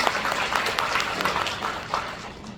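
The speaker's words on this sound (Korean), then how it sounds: "박수 한번 부탁드리겠습니다." A lecture audience at an economics talk breaks into steady applause, a dense wash of many hands clapping at moderate loudness that holds evenly throughout.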